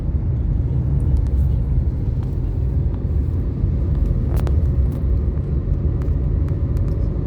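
A car drives along Visakhapatnam's Marine Drive, overtaking other traffic. Loud, steady engine and road rumble fills the cabin throughout, with a few faint higher clicks and no clear speech.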